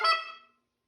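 A goose flute gives a quick double honk, a bright reedy call with a short cluck at the end, close and alone, fading out within half a second.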